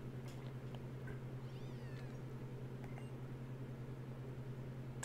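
Litten, the cat Pokémon from Pokémon Sun, gives a few short meowing cries that rise and fall, faint over a low steady hum, with small clicks scattered through the background.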